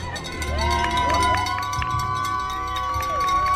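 Spectators cheer and call out for riders crossing the finish line of a gravel cycling race in Arizona, with crowd noise rising and falling, bright whoops and shouts over a busy outdoor background.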